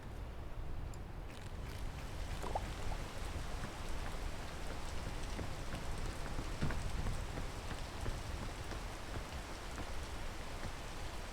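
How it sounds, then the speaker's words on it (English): Steady rain falls throughout, a dense, even patter on surfaces with a few sharper drips standing out, continuous and moderately loud with no voices. "If it could stop raining, that'd be great."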